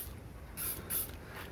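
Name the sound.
disinfectant spray being sprayed in a car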